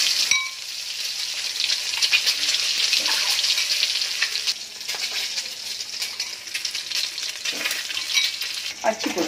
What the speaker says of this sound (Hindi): अब मैं फ्राई करना स्टार्ट करती हूँ।